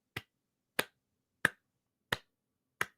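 Five sharp, evenly spaced hand claps, slow and isolated with silence between them, like a weak, half-hearted clap.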